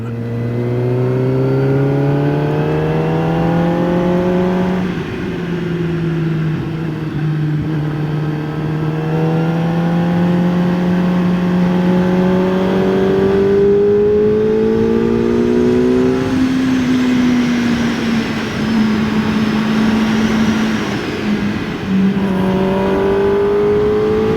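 A QJ Motor SRK 421 RR four-cylinder motorcycle revs loud and close, its engine note rising and falling through the gears in long, continuous high-pitched pulls with no talk over it.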